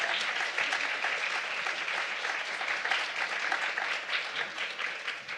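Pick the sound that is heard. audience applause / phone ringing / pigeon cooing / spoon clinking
audience applause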